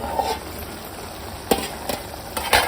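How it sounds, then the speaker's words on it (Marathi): Pomfret curry bubbling in an uncovered pan with oil and little water, a soft steady simmer broken by a few sharp clinks and stirring knocks. "मस्त अशी उकळी आलेली आहे"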